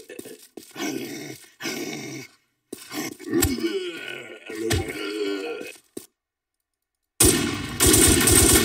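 Gunfire in the video game Infestation: The New Z comes in rough, growling bursts broken by short silences. After a longer pause, a loud, dense stretch of rapid firing closes the clip.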